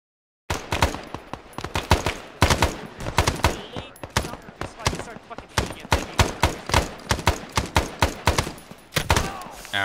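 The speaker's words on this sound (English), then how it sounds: "get the fucking MG up shooting that" Machine gun fire in the video game Arma 3 sounds as rapid, loud bursts of close gunshots, repeating in dense strings across the whole stretch.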